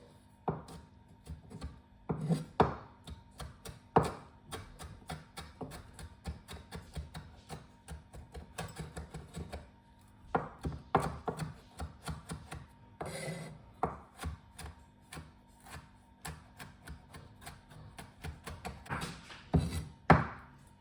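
Knife chopping chillies on a board: a long run of quick, irregular taps and thunks, close and distinct, with brief pauses between bursts.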